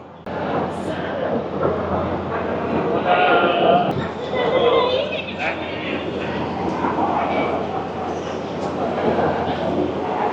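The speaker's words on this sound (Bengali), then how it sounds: "10 মিনিট দেরিতে আমাদের ট্রেন ছেড়ে দিল ধানবাদ জংশন স্টেশন।" Howrah–New Delhi Rajdhani Express pulling out of Dhanbad Junction station, a steady rumbling roll of the train continuing throughout, with people talking nearby over the noise.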